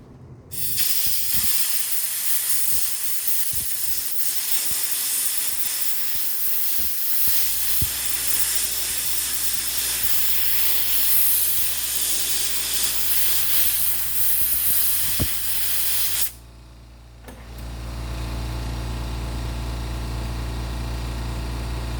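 A loud, steady rush of compressed air from a blower spraying a leather bag hisses continuously for about sixteen seconds, then cuts out and gives way to a lower mechanical hum.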